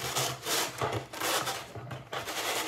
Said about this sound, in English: I'm just using some rubbing alcohol to get it clean